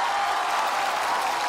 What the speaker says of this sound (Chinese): 此处有雷鸣般的掌声。